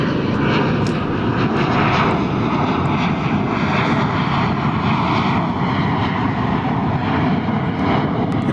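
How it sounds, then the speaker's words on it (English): An American Airlines Airbus A321 departs DFW airport, a steady loud roar of jet engines sustained throughout with no talk. "That was American Flight 1768 departing for the Valley of the Sun in Phoenix in Airbus A321."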